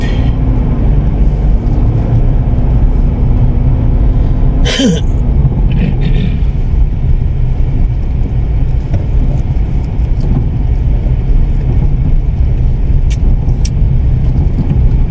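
A car passes on a village road in a barangay in Pangasinan, heard from a moving vehicle. The brief pass sits inside a loud, steady road and wind rumble.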